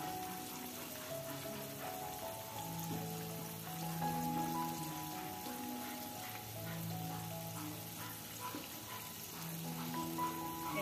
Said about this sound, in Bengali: চিকেনগুলোকে আমি হালকা বাদামি রঙে ভেজে নেব